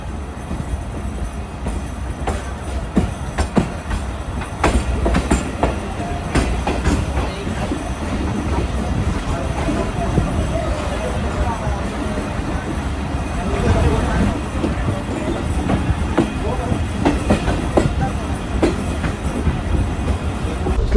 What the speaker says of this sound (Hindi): ट्रेन हमारी इस वक्त दौड़ रही है मुरादाबाद और जंगशाही रेलवे स्टेशन के दरमियान